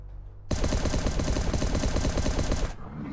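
Automatic AK-47 fire from the video game Last Day on Earth: Survival, a loud, dense, rapid burst of shots lasting about two seconds that starts abruptly and cuts off sharply, with no one speaking.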